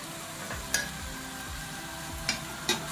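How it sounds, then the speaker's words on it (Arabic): A spoon stirs garlic, onion and spices frying in a pan, with a steady oily sizzle, soft scraping strokes and a few sharp clinks of utensil against the pan. Nobody speaks. "اقلبها تقليبه عشان خاطر ريحه الثوم تطلع معايا"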